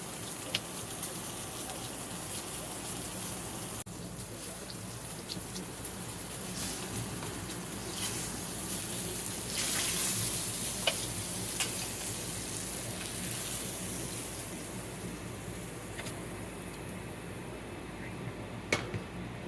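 A steak sears in a hot pan with a steady, moderate sizzle and crackle, and a few sharp pops stand out near the end.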